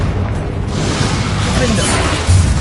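Confringo fire spell explosion in Hogwarts Legacy, a loud, continuous rumbling blast with booming low end, ending in a heavier thud, over a dense battle soundscape.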